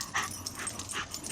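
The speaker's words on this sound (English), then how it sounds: "You're not fighting that dog." A dog gives a run of faint, high-pitched whimpers and yips outdoors in nature, several short cries in quick succession over a soft background hiss.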